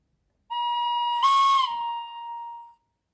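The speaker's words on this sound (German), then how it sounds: "Nochmal eine Pfeife." A second whistle from the mfx sound decoder of a Märklin Krokodil Ce 6/8 model locomotive (3015/36159 conversion): one steady tone of a little over two seconds with a brighter, harsher burst in the middle, clear and alone.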